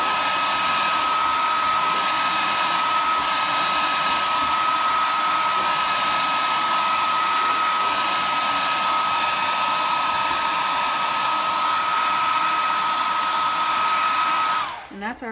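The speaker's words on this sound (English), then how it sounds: "we're just going to take the heat to this again real quick, just so that we have it nice and dry" A heat tool on its low setting dries a chalk-painted Easter lantern, giving a loud, steady, close whirring blow that runs unbroken before cutting off abruptly at the very end.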